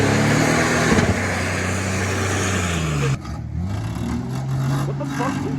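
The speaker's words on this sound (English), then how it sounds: "He's whipping the Blazer." A Chevy Blazer engine revs hard, a loud, steady drone with rising and falling pitch as the throttle is worked, then a sudden drop and a rougher, lower rumble; people's voices are mixed in.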